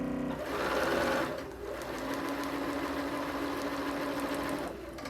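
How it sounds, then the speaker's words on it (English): A sewing machine stitches quilt pieces along a chalk line in a steady, fast, close-up whir that runs for about five seconds without pause, the motor rising at the start and easing off near the end. "We're going to just sew."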